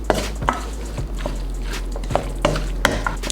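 Tuna scoop filling with added garlic being mixed in a bowl: soft, repeated scraping and tapping strokes at an uneven rhythm, close and fairly quiet over a steady low hum, no voices.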